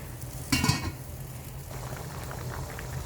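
Chicken curry boiling in a covered pot, a steady bubbling simmer with a brief louder clatter near the start, then continuous soft boiling with no talk.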